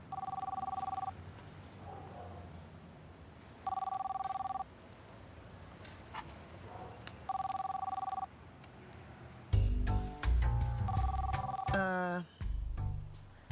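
A telephone rings three times in a steady repeating pattern in a TV crime drama scene, moderately loud, then people talk over some music-like tones.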